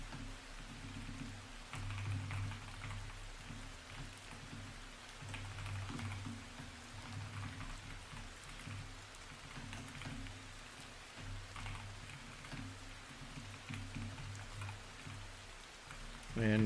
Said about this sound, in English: No, I'll just use the thunderstorm.